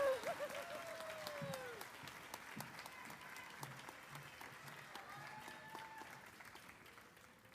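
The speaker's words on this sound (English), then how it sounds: "can we give a big round of applause for the class of 2021" Sustained applause from a graduation crowd honoring the class of 2021, dense steady clapping that spreads through a large gathering and stays at an even level, heard from a distance with no talk.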